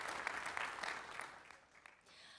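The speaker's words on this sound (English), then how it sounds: "they deserve a big round of applause" An audience applauds at a school Sukkot presentation, steady clapping from many hands that fades somewhat toward the end, with no voices over it.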